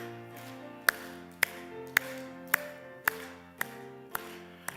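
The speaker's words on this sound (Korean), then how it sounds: "박수치며 합시다." A church congregation at a Korean Sunday service claps in steady time to a hymn, with evenly spaced sharp claps about twice a second over sustained singing and accompaniment.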